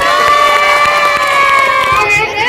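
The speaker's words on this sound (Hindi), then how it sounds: "एक बार इन बच्चों के लिए अपनी जगह पर जोरदार तालियां बजा दीजिए" A school audience at an Independence Day program cheers loudly for schoolchildren after their performance. Sustained, high shouts and whoops from many children ring out together, close and continuous, over a faint background of claps.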